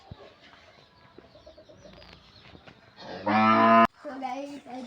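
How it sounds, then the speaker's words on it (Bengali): A single loud cow moo rings out near the end, strong and harmonic, preceded by quieter farmyard background noise. "আমাদের গরু"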